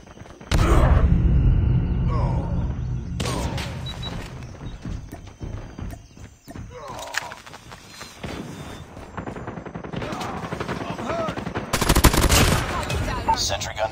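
Gunfire fills a video game match, with rapid automatic bursts and single shots coming in loud clusters separated by brief gaps, and voices cutting in over the shooting.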